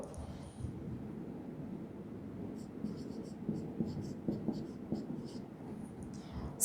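A pen moving across paper while a cash book is filled in, with faint, close scratchy strokes in short bursts over soft background noise.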